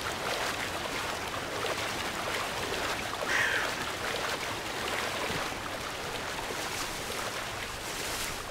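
A waterfall in a video game gives a constant broad rush of falling water, even and unbroken, at moderate loudness, with no voices.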